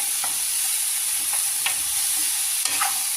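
Garlic and brinjal frying in a pan, a steady loud sizzle and hiss with a few soft scrapes of stirring mixed in, close up and with no voices.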